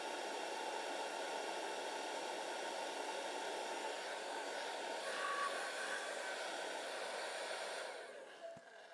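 A hair dryer running on its cool setting with no heat, giving a steady, loud airflow roar that holds evenly for about eight seconds before dropping away as it is switched off or moved.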